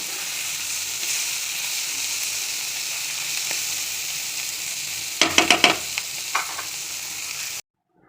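Bitter gourd and small prawns frying in oil, a steady soft hiss of sizzling with a quick burst of spatula scrapes and clatter near the end, then silence.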